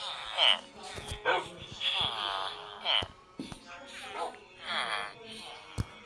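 Dogs in the Minecraft video game bark and yip in quick repeated bursts, mid-loud, with someone talking over the game sounds.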